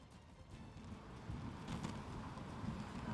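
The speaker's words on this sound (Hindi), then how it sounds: "बारिश भी अभी भी हो रही है।" Heavy rain and strong wind from cyclone Yaas at the Digha coast lash steadily as a dense, roaring wash that swells slightly partway through, with no voices.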